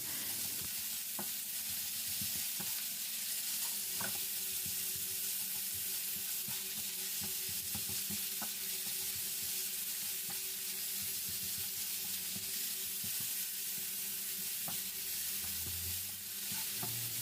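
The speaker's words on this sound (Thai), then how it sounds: "ผัดจนหมูสับสุกนะครับ เราก็จะใช้ตะหลิวของเรานะครับ สับๆให้มัน แยกออกจากกันนิดนึงนะครับ" Minced pork is stir-fried and broken apart with a spatula in a pan: a quiet, continuous sizzle with irregular taps and scrapes of the spatula.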